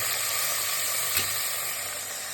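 Steady, loud sizzling of brinjal frying in a hot pan, a continuous hiss with one brief stir or clatter in the middle.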